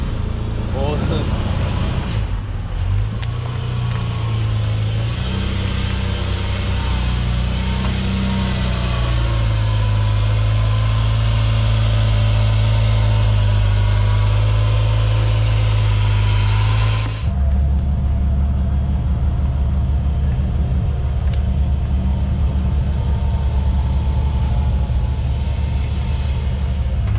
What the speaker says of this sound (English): Next one now, the Ferrari 365 coming off the truck.